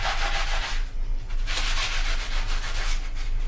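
Crocs shoes scrubbed with a foam sponge give close, rhythmic swishing strokes in several bursts, some longer and some shorter, with a steady low background hum and no voices.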